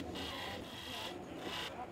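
A wooden coffee table leg turning on a large lathe while the final beads are cut: continuous close scraping and rasping of the tool on spinning wood, with a rhythmic swelling hiss.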